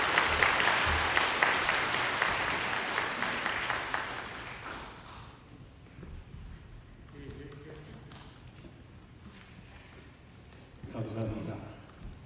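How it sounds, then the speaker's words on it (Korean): A church congregation at a deaf church service gives warm applause to welcome its retired senior pastor. Dense clapping fills the first few seconds, then fades to sparse claps and room noise, and a short burst of voices follows near the end. "박수로 환영하겠습니다."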